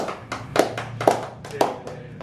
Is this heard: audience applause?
yes